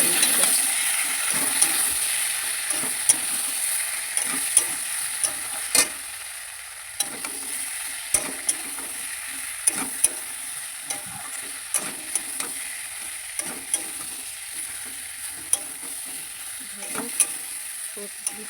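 Potol, potato and spices sauté in hot oil for a fish curry, a continuous loud sizzle and hiss broken by regular scraping stirs of a spoon in the pan.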